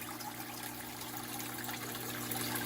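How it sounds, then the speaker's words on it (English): Water drains from an emptied fish tank in a steady, continuous trickling and splashing flow, close and fairly quiet, with no voices over it. "while the water is still draining"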